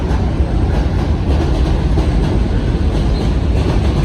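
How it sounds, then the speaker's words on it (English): A New York subway F train rolls past in Brooklyn, a loud, continuous rumble and roar with rhythmic clatter of wheels on track, close and filling the whole moment. "that's the F train coming up there."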